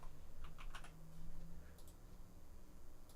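Fingers type on a computer keyboard in a quiet room, a short irregular burst of soft clicks followed by a few scattered taps.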